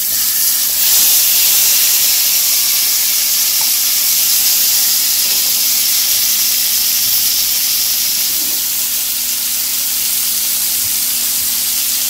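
Two tomatoes sizzle loudly in a hot pan with fried lentils for a potato masala, a dense, steady close hiss throughout.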